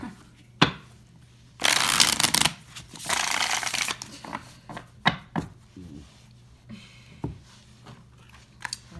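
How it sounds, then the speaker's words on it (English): Tarot cards are shuffled in quick riffling bursts, followed by scattered taps and soft handling clicks, close and fairly loud. "I'm sorry, I shuffle a lot."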